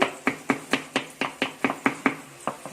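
A knife finely chops a whole red onion and three garlic cloves on a board in a home kitchen, giving a dozen crisp, evenly spaced strikes, close and clear with no talking.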